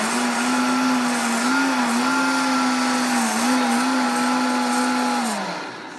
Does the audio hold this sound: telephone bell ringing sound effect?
no